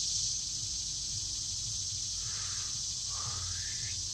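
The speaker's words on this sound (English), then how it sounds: "sorry the cicadas are so loud" Cicadas drone loudly and without a break through an outdoor setting, a dense high-pitched buzz that fills the whole stretch with no speech over it.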